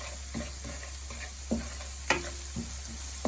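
Ingredients for crawfish bread sauteing in a pan, a soft steady sizzle broken by a few sharp scrapes and taps of stirring, close and fairly quiet, with no talking.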